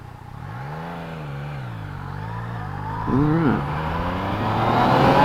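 A 2018 Yamaha XSR900 motorcycle accelerates in standard mode, the engine note climbing and falling through gear changes, then surging sharply before pulling on steadily under wind noise; a brief word is spoken at the start.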